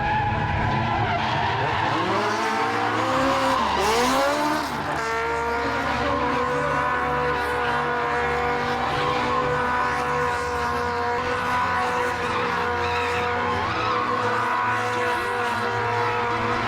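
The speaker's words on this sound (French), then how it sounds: "On voit ici comment Terry, avec les deux voitures tournant seules, sort un pistolet et tire sur la plus petite" Cars spin and skid in a stunt show, tires squealing in long wavering howls over a continuous loud engine drone, with one sweeping squeal dipping and rising before the noise settles into a sustained roar.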